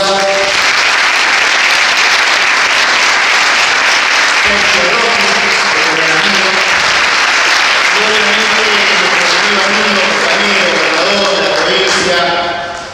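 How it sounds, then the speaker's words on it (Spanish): Loud, sustained audience applause at a book presentation honoring a publication about Perón, a dense steady clatter of many hands lasting the whole stretch and tapering at the end, with voices faintly mixed in. "Roberto Feletti, por el que pido un fuerte aplauso."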